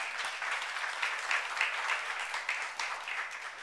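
Congregation applauding during a Korean church youth worship service, a steady dense patter of many hands clapping together without a break, loud and fairly close, with no talking over it.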